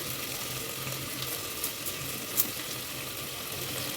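Curry leaves in hot oil with mustard seeds, ginger and garlic in a pan, giving a faint, steady sizzle with a couple of small pops, continuous and fairly quiet.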